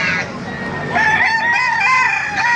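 Black hens among poultry at a livestock market in Baliuag, Bulacan, with a rooster crowing loudly and nearby, clucking and fowl calls around it and a voice in the background.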